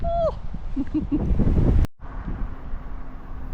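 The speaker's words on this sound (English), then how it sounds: "it's super windy and really cloudy" Strong wind buffets the microphone outdoors on a cloudy day before a long bike ride, a steady rushing roar broken by a short dropout, with a voice speaking briefly at the start.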